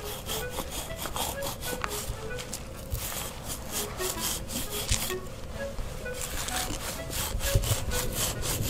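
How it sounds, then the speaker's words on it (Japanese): A hand saw rasps back and forth in quick, steady strokes, gritty and close, cutting small roots in soil while digging a hole for a snare trap, continuing without pause. "で細かい根っこを切るのにノコギリ入れます"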